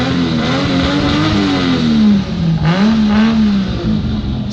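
A Toyota 1JZ engine swapped into a Nissan S13 starts and revs loudly and continuously, close up, its pitch rising and falling through two blips.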